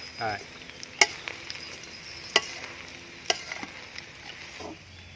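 Red weaver ant queens and eggs are being dry-roasted in a pan, giving sparse scraping and stirring with a few sharp clacks of a spatula against the pan over a quiet background.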